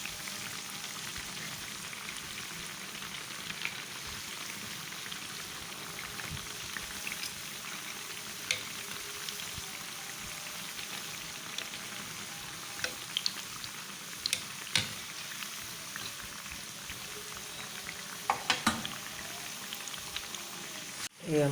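Steady, dense sizzling and bubbling of dough balls frying in hot ghee, continuous throughout with occasional small pops and crackles.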